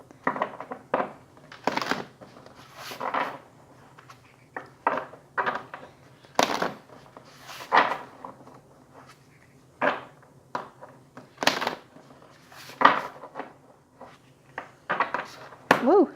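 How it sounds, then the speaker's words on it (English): A deck of cards being shuffled by hand, heard as a string of short papery riffling and slapping bursts at an uneven pace, close and fairly quiet, with pauses in between. "I'm just going to be shuffling the cards"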